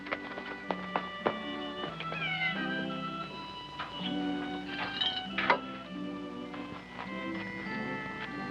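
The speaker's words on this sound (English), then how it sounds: "Petting a mangy old stray cat." A mangy old stray cat meows repeatedly in a 1960s TV drama scene, with several clear, drawn-out, plaintive calls in uneven rhythm close by, set over a soft musical background.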